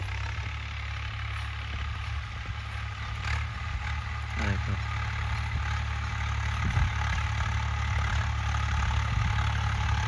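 A tractor engine runs steadily in a farm field during maize sowing, a continuous low rumble heard nearby throughout, with some faint background noise over it.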